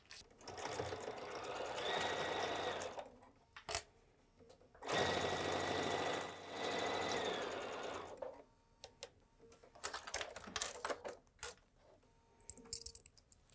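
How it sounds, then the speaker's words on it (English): A sewing machine top-stitches a quilted project bag near a folded edge in two loud sustained runs, followed by softer, intermittent bursts of stitching and mechanical clicks. "I'm gonna start sewing this an eighth of an inch on the folded edge"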